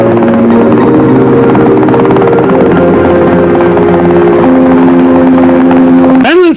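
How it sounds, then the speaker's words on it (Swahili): A loud helicopter thrums steadily with droning rotor and engine tones, its pitch sliding and the sound shifting toward the end as it moves away. "Mbona helikopta isikika kama inatokomea?"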